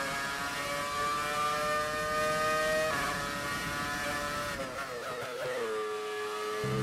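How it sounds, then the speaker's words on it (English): A high-revving Formula 1 car engine in the video game F1 2018 whines steadily with harmonic tones, dipping and shifting pitch near the end as if gearing down, loud and close. "I'm liking the sound of this car."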